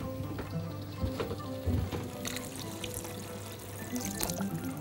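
Water poured into a pan of meatballs cooking for pasta, a bubbling, trickling splash with a few sharper knocks and sizzles, steady and close.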